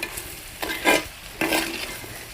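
Potato and egg fry stirred in a pan, with two or three close scraping strokes of a spoon over a steady low sizzle, no talking.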